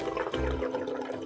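In an animated cartoon, water drains away through a channel, heard as a short, close gurgling, flushing rush lasting about a second.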